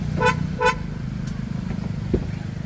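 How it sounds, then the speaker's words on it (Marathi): Two quick electronic chirps from a Kia Seltos unlocking via its keyless request sensor, close by, spaced about half a second apart over a low idling hum. "चावी खिशात आहे रिक्वेस्ट सेन्सरने आपण गाडी उघडू आता"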